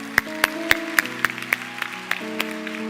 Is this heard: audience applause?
yes